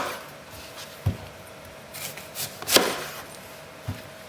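A knife slices the ends off a celeriac on a cutting board: a few sharp, separate chops and thuds spaced over several seconds, close and fairly quiet, with no voices.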